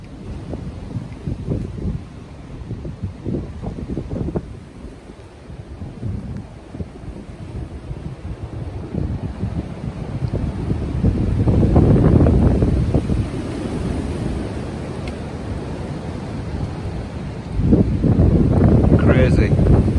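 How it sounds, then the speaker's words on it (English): Strong Storm Ciara gusts roar through trees in a flooded valley, a heavy, buffeting rush that swells and drops in waves with rumbling wind noise on the microphone, and a voice briefly speaks over it. "the trees are under a lot of stress, eh, with that wind"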